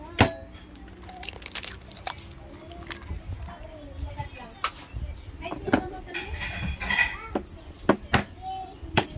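Clinks and scrapes of utensils against a bowl as eggs are added to ground meat for tortang giniling, intermittent sharp knocks and soft stirring sounds with quiet talk in the background.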